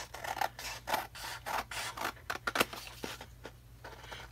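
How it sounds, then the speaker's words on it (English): Scissors snip through a folio piece in a rapid series of short crisp cuts, close and fairly quiet, with light rubbing and rustling of the material between strokes. "I think I'll just cut it out now"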